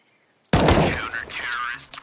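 A sudden close burst of automatic gunfire in an esports shooter match, a rapid string of shots after silence, with a caster's voice faintly underneath.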